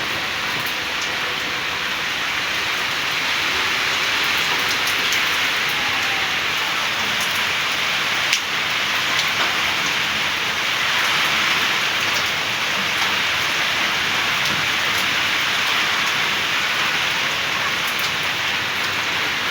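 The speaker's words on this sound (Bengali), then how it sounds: "সকাল থেকেই বৃষ্টি হচ্ছে, সকাল থেকে বৃষ্টি শুরু হয়েছে" Steady rain falls on a village during the monsoon, a constant close hiss of drops spread evenly across the whole stretch with no voices, holding even throughout.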